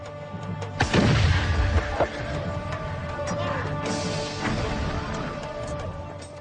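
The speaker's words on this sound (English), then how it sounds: "braced for the greatest bombardment the history of warfare had ever known" Artillery pounds the walls of Constantinople: a heavy, close boom with a crashing impact near the start, then a long low rumble and a fainter second blast.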